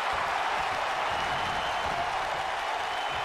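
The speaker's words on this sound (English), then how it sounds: "listen to this crowd" A wrestling arena crowd in the video game WWE 2K19 cheers as a dense, steady roar of many voices, moderately loud and continuous without clear peaks.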